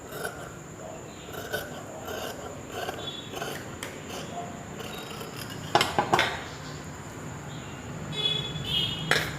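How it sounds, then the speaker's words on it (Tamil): Scissors snip through blouse fabric on a cutting table in a series of crisp, close metallic clicks. The snips come in loose clusters, with a sharper burst near the middle. "இது நம்ம இப்போ கட் பண்ணிக்கலாம்"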